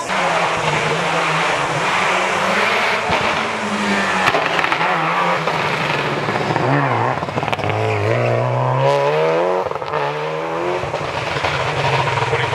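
A race car at the Leadfoot Festival hill climb roars into a hairpin, its engine note rising and falling through gear changes with tyre squeal, loud and close throughout.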